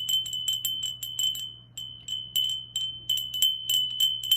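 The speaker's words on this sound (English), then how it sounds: "Maybe you want a bell that has a softer tone, like I do" A small ritual bell with a soft tone rung repeatedly in quick clusters, bright tinkling strikes at a steady irregular rhythm, close and fairly quiet over a low background hum.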